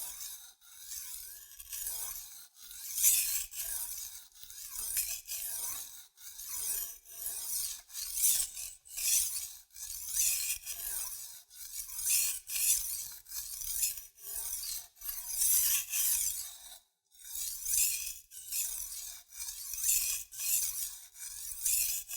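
A kitchen knife is drawn repeatedly across a whetstone, giving steady rhythmic raspy strokes, close and clear, roughly one every second with a brief pause near the end.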